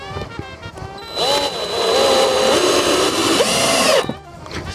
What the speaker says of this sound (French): maintenant on va visser aussi ce côté